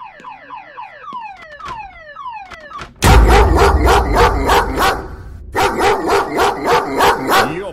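Dog barking loudly and repeatedly in the video game Please, Forgive Me, a fast run of close, harsh barks that follows a descending, chirping electronic alarm, with a short pause partway through and no talk.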